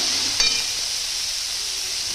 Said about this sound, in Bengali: খুব ভালো করে নাড়াবো